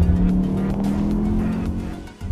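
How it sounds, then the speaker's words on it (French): Cupra Formentor with a 310 hp four-cylinder engine driving on narrow mountain roads, a steady close engine drone with tire and road noise throughout, no talking. "c'est sur ces petites routes de montagne que le 4 cylindres 310 chevaux va s'exprimer au mieux"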